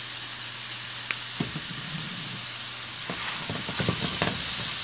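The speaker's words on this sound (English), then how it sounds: "I have my ground pork in the pan with my garlic" Ground pork and fresh minced garlic frying in a pan, with a steady close sizzle and occasional scrapes and clicks of stirring that grow busier toward the end.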